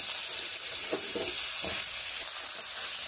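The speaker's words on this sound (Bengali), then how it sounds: "এগুলোকে ভালোভাবে ভেজে নেব।" Moringa drumsticks fry in oil in a pan over a medium flame. A loud, dense hiss of sizzling fills the clip, with a few brief stirring knocks. Nobody speaks.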